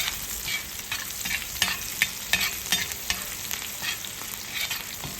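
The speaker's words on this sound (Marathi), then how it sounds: "आणि मिरची थोडीशी भाजल्यानंतर त्याला चांगला डाग पडल्यानंतर हिंग टाकूया." Green chillies fry in hot oil in a pan as asafoetida goes in, giving a steady close sizzle with scattered stirring scrapes and small crackling pops throughout.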